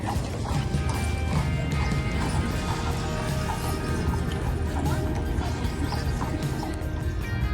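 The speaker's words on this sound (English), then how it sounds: "the horses are coming." Horses clip-clop past on a July day on Mackinac Island, their close, steady hoofbeats mixed with rattling carriage gear throughout, with no talking.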